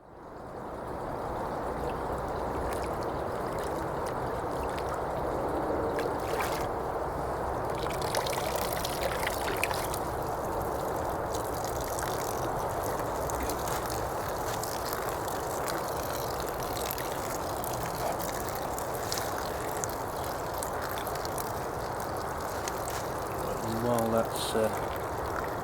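Muddy stream water draining through a Millbank filter bag outdoors, a steady soft trickle and dribble running continuously, with faint ambient noise and a few brief clinks near the end.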